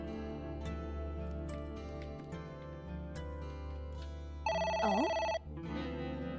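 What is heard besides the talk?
telephone ringing in video game AI: The Somnium Files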